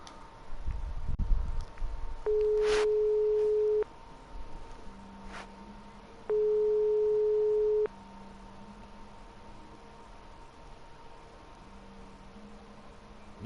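Phone ringing unanswered in the adventure game Broken Sword 5, two long electronic ring tones separated by a pause, with quieter lower tones and faint background noise between them.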